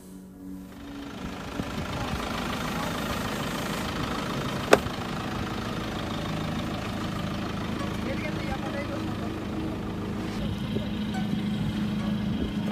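A car engine runs steadily while the car sits stuck in sand in a Kyrgyzstan village, a constant mid-low drone from start to finish with one sharp knock partway through.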